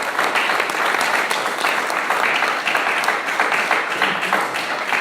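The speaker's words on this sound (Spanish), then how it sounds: "Un aplauso para ellos." An audience applauds a list of named people, sustained, rapid clapping from many hands, fairly loud and even for several seconds with no talk over it.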